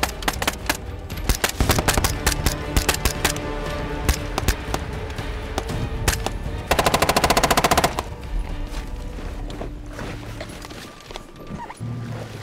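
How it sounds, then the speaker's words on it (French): Loud, close gunfire during a shooting exercise: a dense barrage of sharp repeated shots throughout, including a rapid automatic burst in the middle, with dull thuds and background voices between the volleys. "Allez, tire. Recharge, tire."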